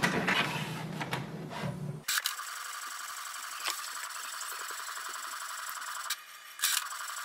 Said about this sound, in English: So this way we can do the wireless printing using this printer.